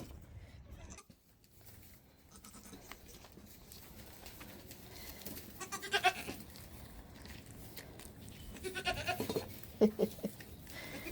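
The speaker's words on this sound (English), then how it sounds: "I got a goat on my shoulder." Baby goats bleat in short, scattered cries at close range amid rustling and handling noises, with faint birdsong in the background.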